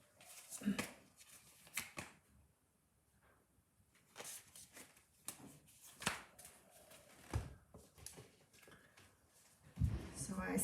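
Tarot cards are shuffled in repeated quick riffling bursts, close and fairly soft, with pauses and light handling between them and a voice speaking quietly in between.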